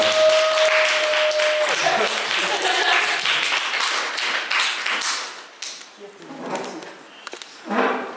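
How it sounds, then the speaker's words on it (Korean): An audience at a youth Bible school lecture claps to welcome a priest, with scattered hand claps and taps that thin out into sparse, uneven claps toward the end, no talk. "장호영 다니엘 신부님 큰 박수로 맞이하도록 하겠습니다"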